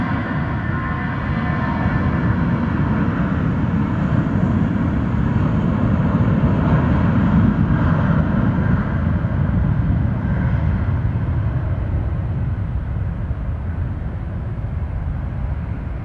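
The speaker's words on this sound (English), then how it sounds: "Thrust! Pushing the plane forward." Jet airliner engines spool up to full takeoff thrust at Austin-Bergstrom airport, a loud, steady roar close by that holds for the whole stretch and eases slightly toward the end, with no talk over it.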